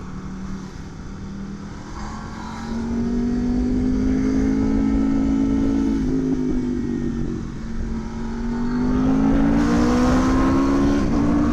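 An Aprilia RSV4 Factory 1100 sport motorcycle engine revs up and down nearby, its pitch rising and falling in long sweeping pulls over a continuous rumble.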